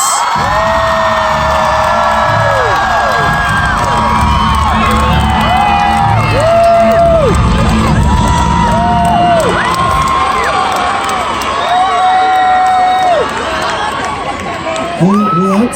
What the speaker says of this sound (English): Please give a big round of applause and welcome